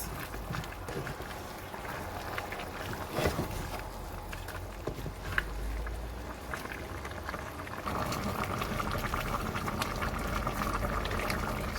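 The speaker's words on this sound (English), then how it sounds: "So I'll go ahead and stir it." Ofe Akwu banga stew with meat, seasoning cube and salt is stirred in a pot over steady bubbling and simmering, with occasional soft knocks from the spoon, close and continuous.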